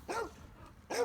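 Two sharp barks come about a second apart from a dog during bite sleeve training, close and loud, with no talk over them.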